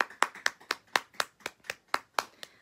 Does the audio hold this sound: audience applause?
yes